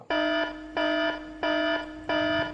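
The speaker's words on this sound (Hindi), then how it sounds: "इंचार्ज ने खतरे के अलार्म का स्विच शीघ्रता से पुश कर दिया।" Danger alarm ringing after its switch is pushed, four evenly spaced loud electronic tones with pauses between, close and steady.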